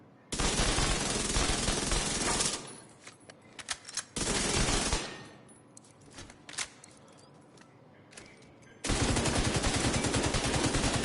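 Sustained automatic gunfire in the video game The Division 2, loud close bursts of two to three seconds separated by quieter gaps with scattered single shots and clicks.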